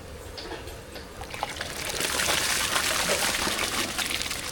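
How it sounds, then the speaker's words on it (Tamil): Rice goes into a pot of boiling water for sambar rice, giving a rushing, splashing pour over a steady bubbling hiss that swells midway; fairly loud and close, with no voices. "தண்ணி நல்லா கொதிச்சிருச்சு இப்போ அரிசி சேர்த்துக்கலாம்"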